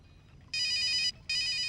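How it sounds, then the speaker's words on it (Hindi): A telephone rings with an incoming call, sounding two bright electronic ring bursts separated by a short pause over a quiet background. "भाई, दिल्ली से कुंदर परमार का फोन है।"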